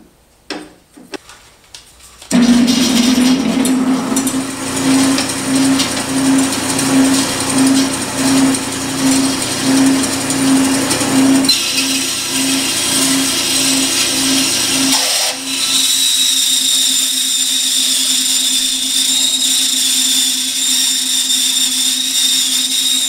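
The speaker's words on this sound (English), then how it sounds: "The next thing you want to do is you want to cut Banksia pod exactly in half." A power tool cuts a dried Banksia seed pod in half, a loud steady whine with a pulsing buzz that starts abruptly after a few brief knocks, then shifts to a higher-pitched tone partway through as the blade works through the pod.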